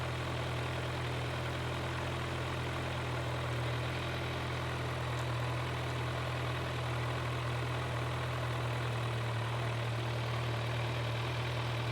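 A Kawasaki Z900 motorcycle idles steadily and close by, a constant low engine hum with no speech, the idle held level after a slight adjustment.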